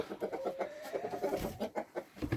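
Several hens clucking close by in a coop in short, repeated bursts, with uneven rhythm and some overlapping calls, fairly soft.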